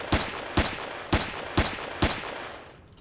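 Five evenly spaced gunshots crack out from a weapon in the space survival game Empyrion Galactic Survival, each a sharp loud blast about half a second apart, with a short fading tail at the end.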